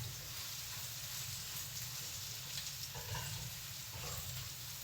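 Potatoes frying in a home kitchen pan give a faint, steady sizzle with soft crackle, continuous and low throughout.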